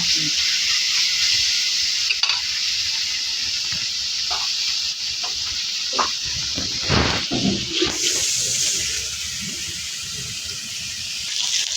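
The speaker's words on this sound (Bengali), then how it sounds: "এদিকে মাছটি ভালোই করতেছে এদিকে বড় মাছটি ভাজা হয়ে গেছে" Fish frying in a pan, with a big fish and a chapila fish on a rainy day: a steady bright sizzle and hiss runs throughout, with occasional stirring knocks and clatters close by.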